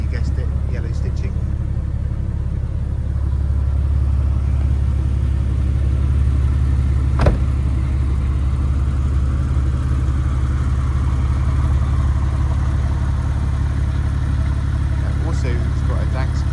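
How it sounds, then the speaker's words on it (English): Porsche 911 Carrera 2 in Speed Yellow with a Dansk stainless steel exhaust, idling with a steady low rumble close by while someone talks over it. "stainless steel exhaust system, so it sounds fantastic too."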